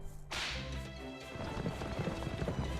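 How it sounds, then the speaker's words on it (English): A carriage horse in the video game Fate/Grand Order is whipped once with a sharp, close crack. A quick thudding gallop follows, with no voices. "It's legally required to say "hia" when you whip a horse"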